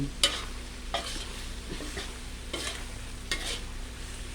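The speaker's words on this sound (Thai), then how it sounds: "รีบผัดให้มันโดนความร้อนทั่วๆนะ" Yellow bamboo shoots stir-fried with basil leaves in a hot pan, a low steady sizzle broken by four or five sharp spatula scrapes at regular intervals, no speech.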